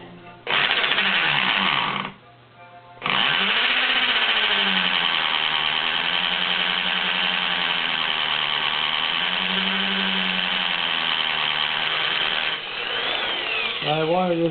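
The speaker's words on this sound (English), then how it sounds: "This is the hammer drill." A hammer drill bores a hole in a single long, loud, steady whine. It starts, stops briefly, then runs continuously with slight wavering in pitch, with no voices over it.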